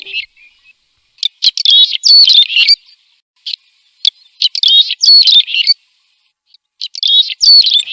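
A swallow sings loud, close chirping phrases in short bursts separated by silent gaps, clear and alone against a quiet background.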